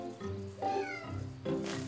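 A cartoon cat lets out several drawn-out, wavering meows in quick succession, clear and fairly close, with no talking over them.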